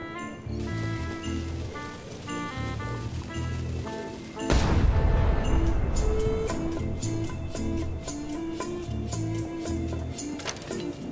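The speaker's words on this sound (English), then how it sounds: "Ready for cannon firing." A single heavy cannon boom in the video game Return to Monkey Island bursts out midway, loud and close, with a rumbling tail over game-style music that continues before and after.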